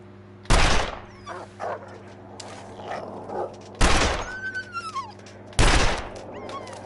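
Three sharp, loud rifle shots ring out at spaced intervals while hunting an animal in the snowy survival game The Long Dark, each with a short echoing tail over quiet ambience and faint scattered sounds between.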